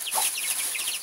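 Chickens clucking in a quick, uneven series of short chirpy calls, fairly close, over a steady high-pitched background hiss.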